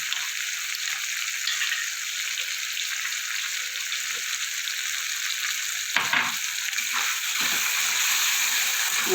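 Spice masala frying with Kashmiri chili powder, a loud continuous hiss and sizzle of hot oil, briefly disturbed by stirring scrapes and a splash partway through, close and steady without speech.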